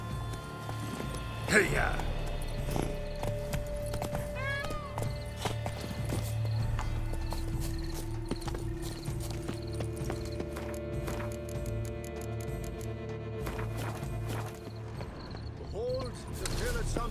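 Horse hooves clip-clopping in a steady rhythmic gallop in The Witcher 3, with a rider's shout, a neigh and game music layered on top, spoken dialogue audible at times.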